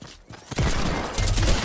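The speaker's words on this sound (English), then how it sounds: "Do I hear more gunshots?" A burst of gunfire in a Fortnite Battle Royale match, a quiet lull and then a rapid dense volley of shots that swells and carries on to the end.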